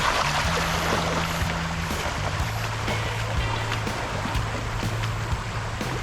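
A gravel bike ploughs through a deep river crossing on an expert-level mountain bike course, with continuous rushing, splashing water and a low rumble throughout and no talking.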